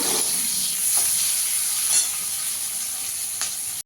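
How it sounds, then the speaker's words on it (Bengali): Chopped onion frying in hot oil in a pan, a loud, steady sizzle and hiss with a few small crackles and no talking. "পেঁয়াজটাকেও একটু লাল করে ভেজে নেব।"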